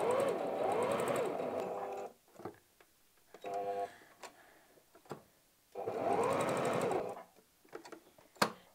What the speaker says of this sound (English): I'm just going to, again, just do a quick top stitch, just securing my button in place.